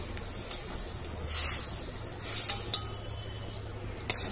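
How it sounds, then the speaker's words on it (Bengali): Hilsa fish cooking in a mustard gravy in a pan, a soft low sizzle with occasional short scraping and clinking touches of a utensil, fairly quiet and close, without talk. "মাছটা ছেড়ে দিচ্ছি।"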